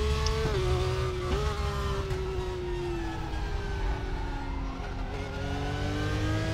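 A Porsche in a racing video game revs and accelerates with a loud, sustained engine drone that climbs and dips in pitch through gear changes, heard alone with no talking.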